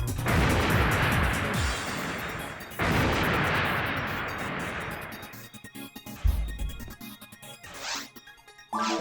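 Gunfire in Phantasy Star Online comes as loud, booming blasts with long crunchy tails, two big bursts followed by scattered sharper hits and pops, close and without talk.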